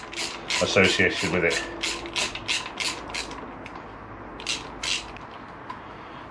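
A ratchet clicks in quick bursts while bolts come off a Honda VFR800 VTEC motorcycle during teardown, brisk pawl ticking near the mic with a few later bursts, and someone speaks briefly over it.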